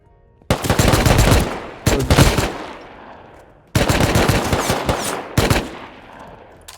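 Automatic gunfire from the video game Rust, loud close bursts of rapid shots in four separate volleys with short gaps, alone without talk.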